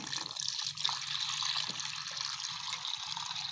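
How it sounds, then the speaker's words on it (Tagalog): Water from a manual poso hand pump pours steadily into a bird drinker, a continuous splashing trickle with slight surges, close and moderately quiet, with no talking. "lagyan natin ng tubig poso"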